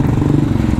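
Hero Xtreme 125R 125cc motorcycle engine revving hard above 5000 RPM, a loud, steady, close buzzing drone with a fast, even pulse throughout.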